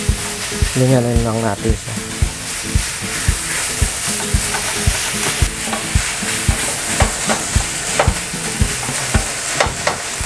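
Ground meat frying in a pan for Tuguegarao-style pancit batil patong, with steady sizzling under repeated scraping stir strokes and a brief spoken comment near the start.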